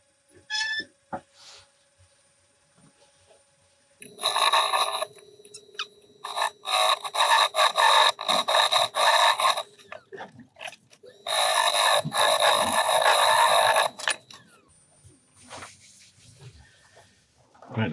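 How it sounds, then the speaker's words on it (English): Carbide-tipped tool cutting a recess in turned wood on a lathe: bursts of harsh, buzzy scraping in several long stretches, separated by quiet gaps and a few faint clicks. "I'm going to get a nice sharp carbide tip and cut this recess"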